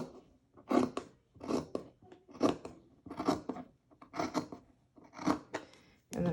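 Scissors cut through fabric for a face mask pattern in steady, evenly spaced crunchy snips, about eight close strokes with short pauses between, heard alone without talk.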